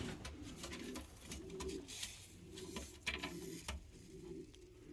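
Pigeons or doves coo in soft repeated low phrases, several calls overlapping with intermittent mechanical clicking and rattling nearby, no talking.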